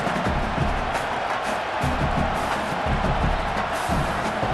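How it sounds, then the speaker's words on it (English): Steady broadband stadium crowd roar in an EA Sports College Football video game, a continuous dense wash of cheering that holds at an even level throughout without pause. "This crowd trying to do its part to get inside the kicker's head."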